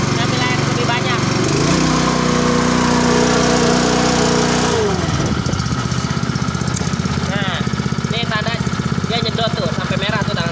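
A Honda TuxN 2-inch water pump engine runs loud and close, its steady drone rising and shifting in pitch as the throttle is pulled open, then settling into a rapid, even pulsing beat.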